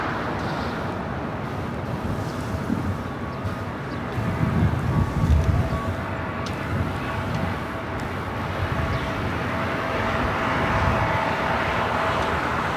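A Delta Air Lines Airbus A350 heavy jet arriving from Paris at LAX, a broad steady jet roar that swells in the middle and holds at moderate distance, with no voices.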